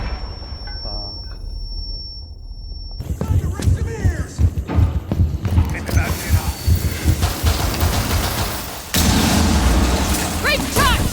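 A suppressed AR rifle fires outdoors, a muffled sharp report followed by clattering mechanical noise and voices talking nearby, with a second burst of broadband noise near the end.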